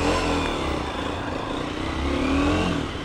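A Honda CG 160 Speed 400 motorcycle engine drones steadily while riding, a constant close rumble with a faint rising whine, no voices.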